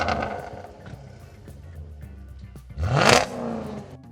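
A Jaguar Project 8 in a racing game revs hard, a low engine rumble building to a loud, sweeping roar that climbs in pitch and then fades.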